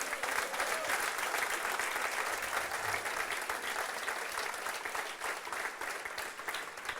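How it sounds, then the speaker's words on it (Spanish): A congregation at a church spiritual retreat breaks into a broad, sustained round of applause. The clapping is a steady wash of many hands that fills the room, with no talk over it. "dale ese aplauso a Jesucristo"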